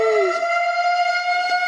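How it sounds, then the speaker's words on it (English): A siren sound effect wails with a loud, steady, high tone after a brief downward sweep at the start, heard alone with no talk. "let me throw some sirens in there too"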